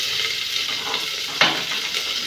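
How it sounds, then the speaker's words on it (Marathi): Onion frying in hot oil with mustard seeds, a steady close sizzle filling the clip, with a brief sharp stir or clatter near the middle. "आता त्याच्यामध्ये मी ही कांदा घालते"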